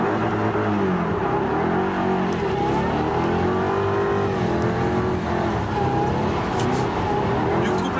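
Drift car engine revving hard in a professional drift session, a loud continuous roar that rises and falls with throttle, with possible tire noise and no clear talk on top.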